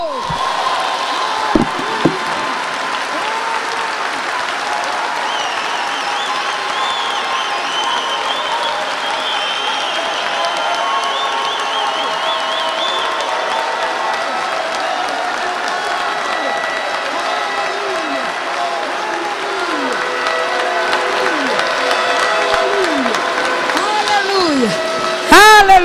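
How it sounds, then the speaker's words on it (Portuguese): A church congregation applauds steadily and at length during a worship service, a dense, even wash of clapping with a few voices and cheers rising through it near the end. "Aplauda ao Senhor"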